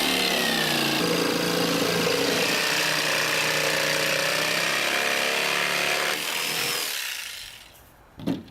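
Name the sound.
plywood being cut along a curved line for a skateboard halfpipe transition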